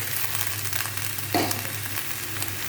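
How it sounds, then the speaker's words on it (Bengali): Broken rice fries in a pan with a constant close hiss of sizzling, marked by a single brief scrape of stirring partway through. "এইগুলো দিয়ে চালটা নাড়াচাড়া করবো"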